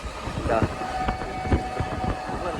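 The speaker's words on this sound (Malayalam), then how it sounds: "അത്ര സ്പീഡിലാണ് ട്രെയിൻ പോയിക്കൊണ്ടിരിക്കുന്നത്." A train between Mohali and Amritsar rumbles and rattles along at speed, a steady rushing clatter with rhythmic knocks, while a voice talks over it.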